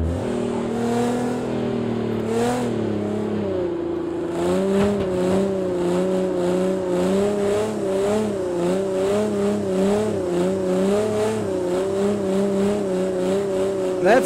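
Car sliding on ice in the Project Cars racing game, a continuous game engine drone that rises and wavers with revs alongside brief tyre noises, with a voice talking over it.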